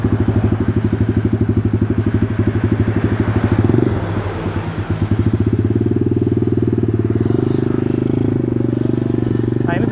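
A Symotos 110 mini trail motorcycle ridden in second gear, its small single-cylinder engine putting out a rapid, steady thudding note close by, briefly easing off mid-ride before pulling again.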